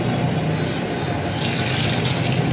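A full jug of water is poured into a cooking pot of aloo matar curry, making a steady, close, rushing splash that continues without pause.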